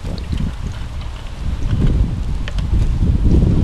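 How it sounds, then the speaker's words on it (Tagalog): Gusty wind buffets outdoors on a cold evening in Taiwan, a rumbling low roar that strengthens over a few seconds, loud and close with rustling buffeting against the microphone. "medyo mahangin"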